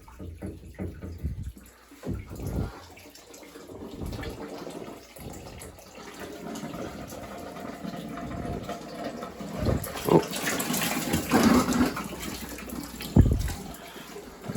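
Water runs and splashes steadily while an old 50-year-old boiler is drained and removed during replacement with a modern Weil-McLain unit, a continuous flowing wash with a few knocks and clanks over it.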